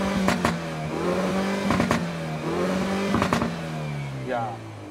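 A 2019 Hyundai i30 Fastback N Performance engine revs up in repeated bursts, rising and falling in pitch, with a person talking over the steady rumble.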